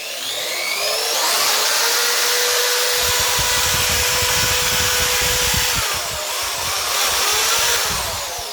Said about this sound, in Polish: Nawet dało radę taką śmieszną wiertareczką